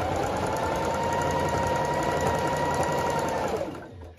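A sewing machine runs at a steady, even hum for about three and a half seconds, close and moderately loud, then stops, leaving a faint fading tail; no one speaks.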